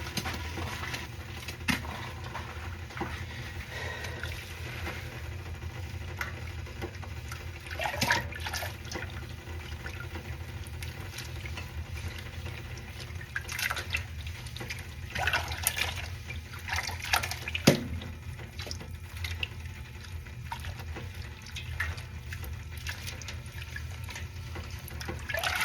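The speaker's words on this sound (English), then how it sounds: "Let's try to avoid the splashes next time." Water sloshing and splashing as cotton/merino DK yarn is dyed with fiber reactive dye and soda ash in a dye pan, a steady wet churn with a few louder splashes, no talk.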